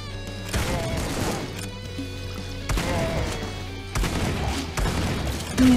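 Shotgun blasts in the video game Supplice: three heavy, booming shots spaced a couple of seconds apart, each with a loud crack and a lingering rumble beneath steady game ambience.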